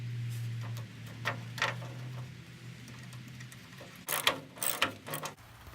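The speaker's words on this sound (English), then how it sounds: "I just finished screwing those in" Original nuts being screwed onto the limb riser bolts of a Jeep Wrangler TJ, heard as soft clicking and ratcheting ticks scattered across the clip, growing busier and louder near the end, close by with a low hum underneath.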